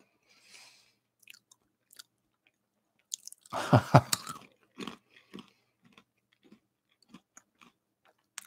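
Someone chews peanuts near a microphone, a dense second-long burst of crunching followed by scattered soft bites and smacks in an otherwise quiet room.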